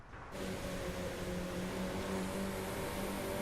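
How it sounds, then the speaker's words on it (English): Audi A1 engine in the Driveclub racing game grumbling at steady low revs after a sudden start, a constant tonal drone with harmonics holding level throughout. "Grumbly little car."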